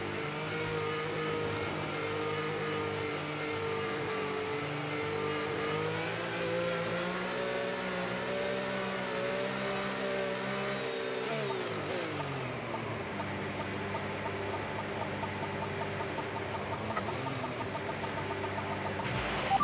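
Race car engines in a video game hum and drone steadily on the starting grid of a Texas race weekend, a layered, moderately loud tone that drops in pitch partway through and then holds.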